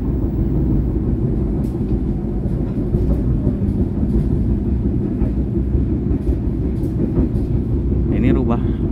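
Passenger train on the Tasikmalaya–Cilacap line rolling toward Banjar station, a steady loud interior rumble with faint clatter, and a brief squeal near the end.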